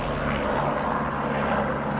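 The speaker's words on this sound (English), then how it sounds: "Hold on, the helicopter's back." A helicopter flies low over a residential neighborhood. Its steady, loud engine and rotor drone fills the whole stretch without a break, and no voices are heard.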